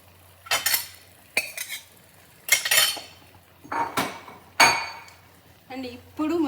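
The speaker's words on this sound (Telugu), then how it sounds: "ఫ్రై చేసుకున్న క్యాప్సికమ్స్ వేసేసుకుంటున్నాను" Fried capsicums tipped into a pan of curry with a run of loud clanks and scrapes of a utensil against the metal pan, coming in irregular bursts close up; no one talks.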